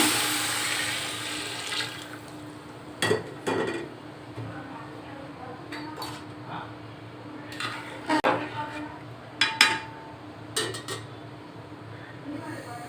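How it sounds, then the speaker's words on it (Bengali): Water pours steadily into a pot for cooking pulao rice, then fades, followed by scattered clinks and knocks of a metal pot and utensils. "পানিটা দিয়ে দিচ্ছি 9 কাপ পানি"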